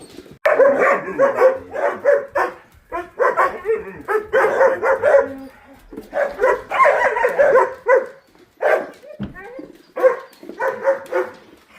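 Several dogs bark, yip and whimper excitedly in rapid, overlapping bursts close by, with short pauses between volleys.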